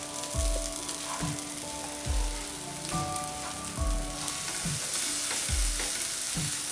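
Masala frying in a pan with paneer and chopped green coriander, a continuous sizzle broken by regular scraping stirs of a spoon roughly every second and a half, close by and with no talking.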